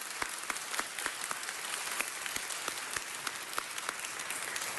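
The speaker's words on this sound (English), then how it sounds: "We should give him a round of applause" A city council meeting room full of people applauds steadily, with a dense wash of clapping punctuated by sharper individual claps throughout.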